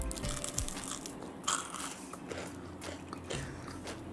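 Crisp bites into a crunchy vegetable fritter, followed by a few close, crackly chews with no talking.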